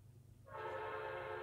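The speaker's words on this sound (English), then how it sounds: "I live by a train, so sorry if you hear a train" A train passes close to a home, starting with a low rumble and swelling into a loud, sustained horn-like tonal roar that continues to the end.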